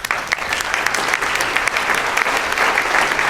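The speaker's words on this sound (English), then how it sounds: "if we could give them a round of applause" An audience at a symposium closing gives the volunteers a warm round of applause, dense continuous clapping from a roomful of people, steady and fairly loud throughout.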